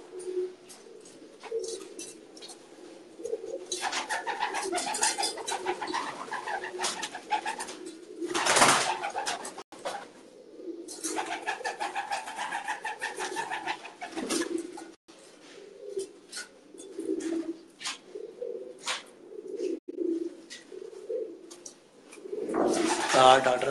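Pigeons cooing on a rooftop loft, a low repeated murmur of calls running under men's conversation, with occasional louder bursts nearby.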